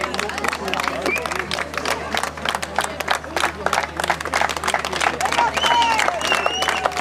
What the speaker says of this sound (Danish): Må I gerne hæve klappeniveauet meget